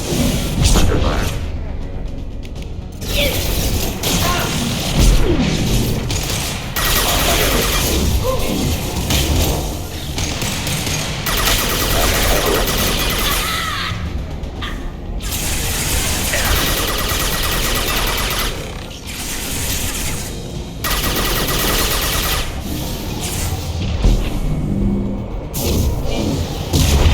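Gunfire and booming explosions in the video game Mass Effect 2 during a firefight at a station, a dense, loud and near-continuous barrage of shots, whooshes and thuds with brief lulls.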